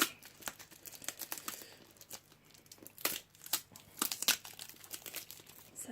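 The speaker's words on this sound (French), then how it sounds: "Le seul truc, c'est que je sais pas comment enlever tout ce scotch." Packing tape being pulled and peeled from a cardboard parcel box, irregular bursts of crinkling and tearing, close and fairly quiet, with short pauses between pulls.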